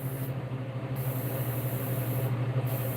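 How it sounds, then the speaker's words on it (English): An aerosol can sprays clear coat in a continuous steady hiss, loud and close, with brief dips where the nozzle pauses. "this stuff that I'm spraying is clear coat"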